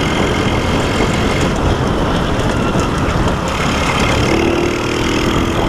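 A small motorcycle engine, a Honda Biz or similar moped, idles steadily and loudly throughout, a continuous low mechanical drone with a rough, rattling texture and no voices.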